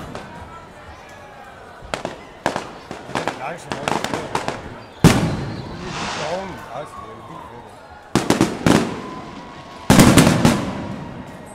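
Fireworks bursting over Esbjerg, heard from a concert stage: sharp loud booms and crackling volleys in irregular clusters, with people talking and reacting in between.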